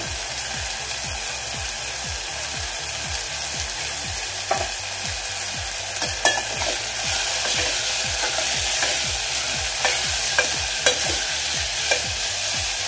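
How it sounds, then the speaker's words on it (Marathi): Coriander frying in a hot spice tempering with a pinch of asafoetida, a steady sizzle broken by rapid, regular scraping strokes of a spoon stirring in the pan, with a few sharper clinks. "या फोडणीमध्येच कोथिंबीर घालते।"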